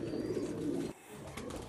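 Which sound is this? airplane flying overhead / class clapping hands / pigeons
pigeons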